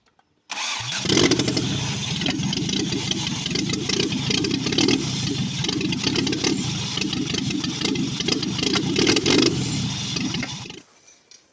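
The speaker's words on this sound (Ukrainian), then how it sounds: "Мотор завівся, але було це недовго" A Ford Mondeo Mk1 engine cranks and catches, then runs roughly with an uneven, lumpy idle for about ten seconds before cutting out abruptly as its makeshift bottle fuel supply tips over.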